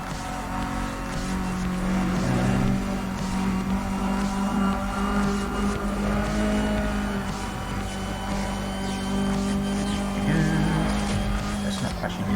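Race cars in the video game Need for Speed Undercover, steady engine drone with revving and shifting pitch on the third lap, continuous and loud, with someone talking over it.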